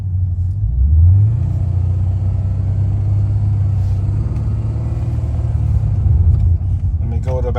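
A Pontiac GTO with a failing transmission idles with a low rumble, the engine rising briefly as it shifts near the start, then holding a steady drone. A voice is heard near the end.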